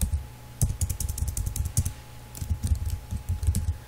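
Typing on a computer keyboard while writing servlet code: rapid, irregular key clicks at close range with short pauses, steady and alone.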